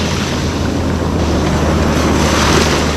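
Loud, continuous roar of ocean surf at a beach, waves churning with heavy wind buffeting the microphone, no talking.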